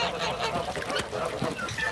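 Several geese honk repeatedly in a noisy, overlapping chorus on a duck farm, close by and fairly loud.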